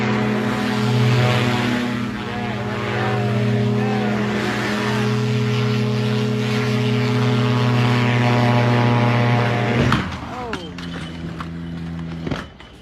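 A paramotor trike's engine and propeller run loud and close with a steady droning buzz, pitch wavering, then dropping sharply near the end and sputtering out as the runaway trike winds down.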